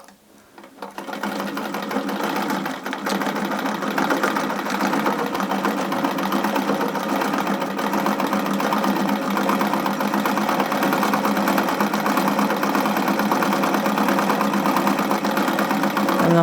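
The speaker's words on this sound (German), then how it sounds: "Wir möchten sehen, ob die Maschine das macht." A vintage Pfaff 30 sewing machine runs steadily in a continuous, loud mechanical whir and rapid stitching rhythm, starting after a brief moment and holding without interruption.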